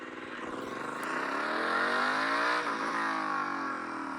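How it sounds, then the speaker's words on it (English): A Harley-Davidson Sportster S with its stock exhaust revs up close by, climbing to a sustained roar and then easing off slightly, with no one talking. "you guys can hear what the bike sounds like as it is right now from stock"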